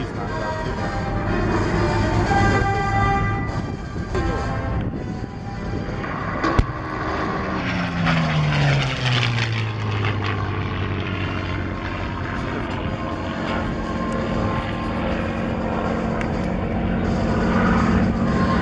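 An aircraft flies inbound at the Columbus air show, its propeller engine drone loud and continuous. A pitch sweep mid-clip marks it passing, over a steady outdoor rumble.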